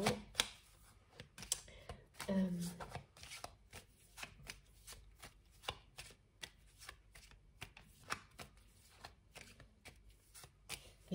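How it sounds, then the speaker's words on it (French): Tarot cards being shuffled and handled, a soft crisp run of rapid riffling flicks and taps, close and quiet, with no speech. "il faut que je prenne une troisième carte de mon tarot"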